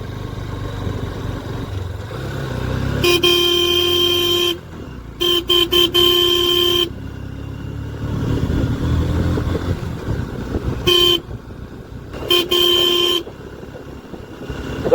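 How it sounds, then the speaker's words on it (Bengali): A motorbike horn blares in several long, loud blasts separated by short gaps, over the low rumble of a nearby engine, in light fog on the road to Yumthang Valley, North Sikkim. "হর্নটাও শুনতে পায় না দেখে সিগনাল দিচ্ছি"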